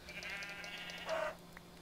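A Minecraft sheep gives a short, nasal in-game bleat that wavers briefly, heard faint and alone.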